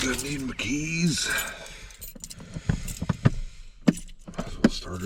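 A bunch of keys jangles in quick metallic bursts and clicks near a parked truck, with someone talking briefly at the start and faint sounds of handling in between.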